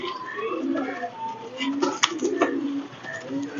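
Pigeons coo in soft, low repeated calls, several overlapping, with a sharp click and some faint background voices.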